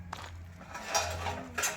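Clinking dishes and a few clattering knocks as items are washed, with a low steady hum underneath and no talking.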